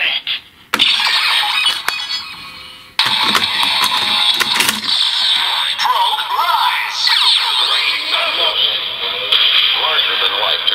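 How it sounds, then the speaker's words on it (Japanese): A Gashapon GP Progrise Key toy from Kamen Rider Zero-One plays its shortened transformation sound: bright, loud electronic tones and chimes with a synthesized voice-like quality, starting with sharp clicks and then running as a continuous buzzing sequence. "さらに短縮変身音。"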